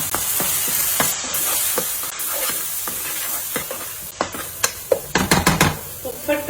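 Red chili powder, turmeric, coriander powder and cumin powder fry in a pan for fish curry, giving a steady close sizzle with scattered stirring scrapes and clicks that grow louder and busier near the end.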